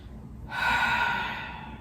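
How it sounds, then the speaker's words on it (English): A yoga practitioner takes a single slow, soft breath with a gentle airy rush that rises and fades in a quiet room. "Breathing."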